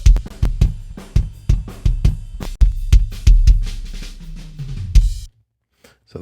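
Kick drum mics without effects carry a steady drum pattern of deep, booming kick hits with some cymbal spill, close and loud, then the playing stops into quiet.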